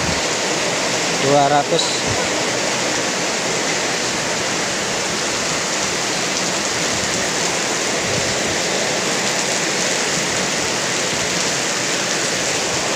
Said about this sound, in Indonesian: Rencana mau mencacah belakang rumah tapi hujan teman-teman, jadi nggak jadi.